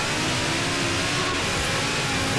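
An Audi Sport Quattro races flat out along a beach in the Forza Horizon 3 racing game, its engine holding a loud, steady high-speed roar throughout with no talk.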